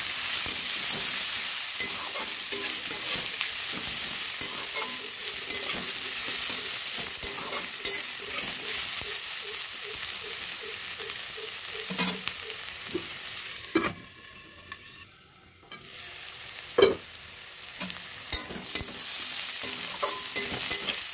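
Ginger, garlic and green chillies fry in oil in a pan for chickpea and pea ghugni, a steady close hiss with stirring scrapes. Then a brief muffled dip as the lid goes on, and the sizzle carries on beneath it.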